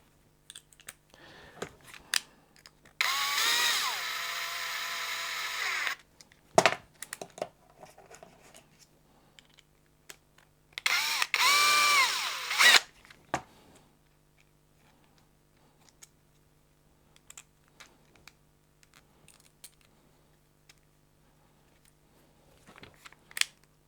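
An electric screwdriver drives screws into a Tamiya CR01 kit in two whirring bursts of a few seconds each, with light clicks and tool handling in the quiet between them.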